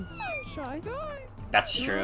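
A kitten meows in the video game Tomodachi Life, several short, bright, rising-falling mews in quick succession. They are close and clear, and a person speaks over the end.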